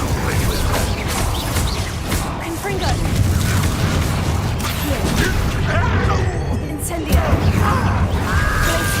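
Hogwarts Legacy combat with the Confringo blasting spell: loud booming blasts and crashing impacts recur amid clattering mechanisms and chaotic battle noise, with voices talking over the action.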